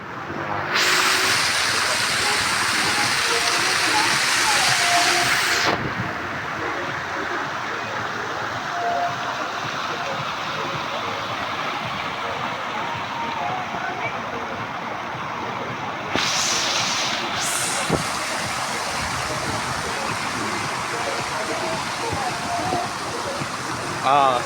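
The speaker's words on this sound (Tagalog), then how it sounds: "Ayan, umuulan." Rain falls as a steady, dense hiss outdoors, with a louder wash at moments, while people talk over it now and then.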